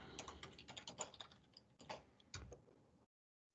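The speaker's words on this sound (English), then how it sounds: "And I have the option to start typing here." Keystrokes on a computer keyboard clatter in quick, irregular bursts at close range, then stop abruptly with a short silence near the end.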